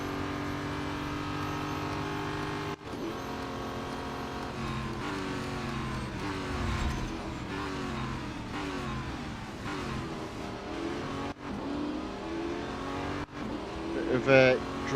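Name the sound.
race car driving in Real Racing 3 video game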